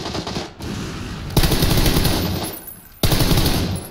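Rapid automatic gunfire from a rooftop fight in PUBG rattles in loud, dense bursts, broken by a short gap and then resuming sharply, with no voices over it.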